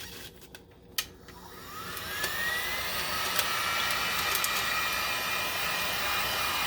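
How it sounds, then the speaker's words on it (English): A Home Depot heat gun blows steadily on a 20oz skinny sublimation tumbler, a loud continuous airy roar. It starts after a few faint clicks and holds evenly to the end. "this I got at Home Depot, my heat gun."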